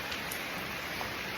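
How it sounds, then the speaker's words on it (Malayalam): Continuous rain pours down in a steady, unbroken hiss, close and even throughout with no voices or other sounds. "അപ്പോൾ ഏതായാലും നിപ്പില്ലാത്ത മഴയാണ്."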